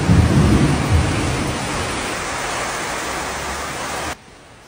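Heavy rain pouring as a dense, steady hiss and roar, loudest at first and gradually easing slightly before cutting off abruptly near the end, with no voices.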